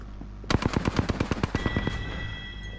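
Rapid automatic gunfire in the shooter game Apex Legends, a burst of about a dozen loud, evenly spaced shots that ends abruptly, followed by a lingering tonal hum.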